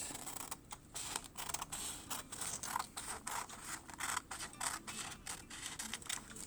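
Scissors snip across a sheet of folded paper in a run of quick, crisp cuts, close and fairly quiet, with no talking.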